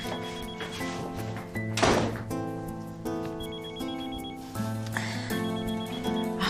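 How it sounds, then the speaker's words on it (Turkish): A telephone rings indoors in a Turkish drama, a repeated bell-like trill sounding in bursts over a steady musical score, with a dull thunk partway through. "Telefon çalıyor."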